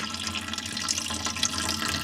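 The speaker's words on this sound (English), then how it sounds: "we are siphoning out all of the waste liquid" Waste liquid from a sulfuric acid gold stripping cell drains out through a hose, giving a steady close rushing trickle with small splashes that runs the whole time, with no talking.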